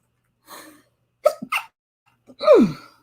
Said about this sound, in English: Oh, I feel a sneeze coming.